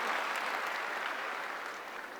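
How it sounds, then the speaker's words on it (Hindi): An audience at a success day event in Delhi breaks into applause, a broad wash of many hands clapping together, steady and moderately distant, lasting the whole moment without speech. "जोरदार ताली हो जाए"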